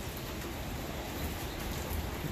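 Steady rain falls outdoors at a cherry blossom festival in Macon, Georgia, a continuous soft hiss of drops spread evenly across the clip with no voices over it.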